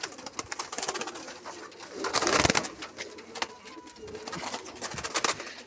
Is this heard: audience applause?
no